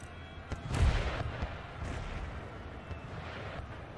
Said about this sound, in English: Allowing our gun crews the opportunity to fire the first salvos.